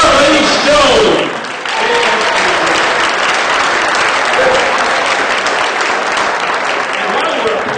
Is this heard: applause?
yes